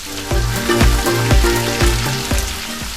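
Fresh green coriander sizzling as it fries in hot oil with chana dal, a steady loud crackle broken by rhythmic stirring strokes, close up with no talk.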